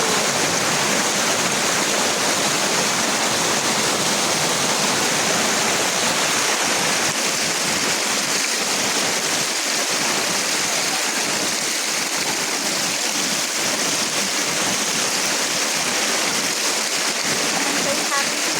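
Mandaya Falls, a waterfall at an eco-adventure park, roars with a steady, dense rush of falling water that stays loud and continuous throughout, with no talk over it.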